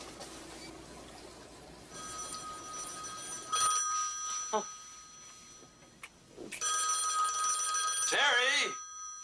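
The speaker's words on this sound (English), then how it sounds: "answer the phone." A telephone rings indoors in a few electronic bursts separated by pauses, fairly quiet, with other faint sounds in between.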